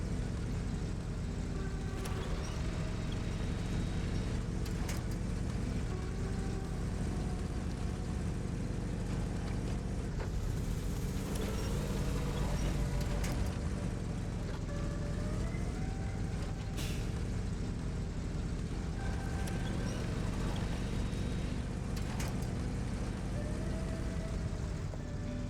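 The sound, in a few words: truck engine straining in mud, SnowRunner video game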